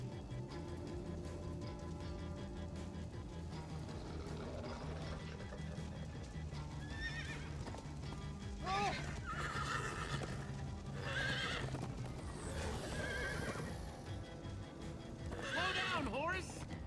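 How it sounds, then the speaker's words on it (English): Horse in Minecraft: Story Mode neighing several times as it gallops, whinnies rising over steady hoofbeats and a rumbling music-and-effects bed, with voices talking throughout. "Slow down, horse!"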